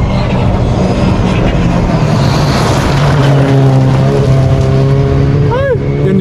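A Skoda rally car at the WRC Safari Rally in Kenya roars past loudly, its engine note climbing and bending as it revs close by, over a noisy outdoor crowd background.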